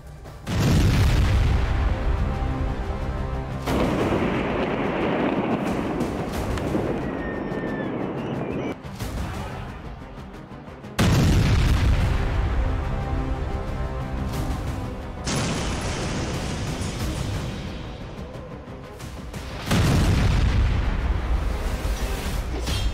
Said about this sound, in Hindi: लेबनान पर इजराइल का डबल अटैक, हिजबुल्लाह के ठिकानों पर फिर बरसा बारूद